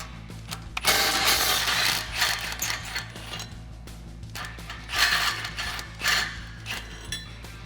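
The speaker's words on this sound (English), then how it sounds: "So I'm going to use my swivel to get these 2 factory bolts off of our flange" Swivel socket ratchet loosening factory exhaust flange bolts on a 2015–2020 Ford F150, with a rapid clicking ratchet and metallic clanks in several bursts, close and fairly loud.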